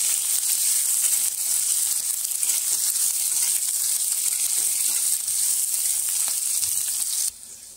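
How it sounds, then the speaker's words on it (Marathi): A large chopped onion sizzles steadily in hot oil, a close, dense hiss that holds without a break before dropping quieter near the end, with no voices. "त्याच्यानंतर एक मोठा कांदा घेतलेला आहे चिरून, छान असं तेलावर परतवून घ्यायचं आपल्याला"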